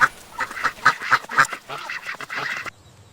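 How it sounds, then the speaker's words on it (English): A duck quacks in a quick series of nasal honks, close and loud, before cutting off into near silence. "This is a duck."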